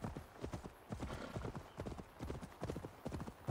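Rapid clip-clop of horse hooves galloping in Assassin's Creed Valhalla, a steady loud drumming of close hoofbeats throughout, with a brief whinny-like note and no speech over it.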